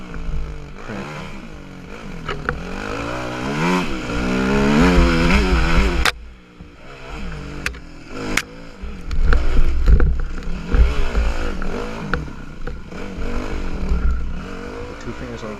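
A motorcycle engine drones and surges as the rider works the clutch with two fingers on a loop ride, loud and close with rising and falling revs, a sharp drop near the middle and wind noise throughout.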